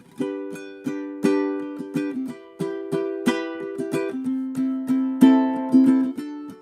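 Plucked ukulele chords strummed one after another through a 1-6-2-5 chord progression, with a bright, clear tone and no voices.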